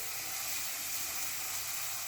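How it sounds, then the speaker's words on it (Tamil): Sliced onions frying over low heat toward golden brown for a chicken liver curry, heard as a steady, even sizzle and hiss with no stirring strokes or voices. "வெங்காயம் நல்லா கோல்டன் ஃப்ரை ஆன வரைக்கும் வதக்கிட்டே இருங்க."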